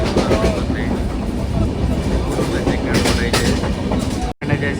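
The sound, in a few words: passenger train running from Tirupati to Vijayawada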